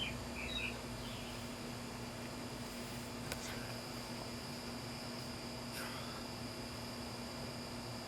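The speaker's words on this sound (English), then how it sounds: "These birds are loud." Faint bird chirps in woods near Round Valley Reservoir over steady hissing background noise, a few brief calls scattered across the stretch.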